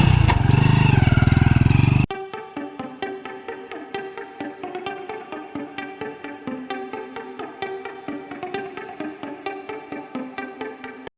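Motorcycle ride on a short trip, a steady mid-pitched engine drone with repeated rhythmic ticks and small rises, close and continuous after a brief louder opening burst.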